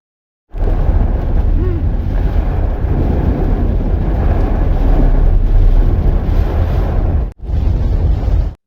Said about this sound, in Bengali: বাইরে কিন্তু প্রচণ্ড বৃষ্টি সাথে ঝোড়ো হাওয়া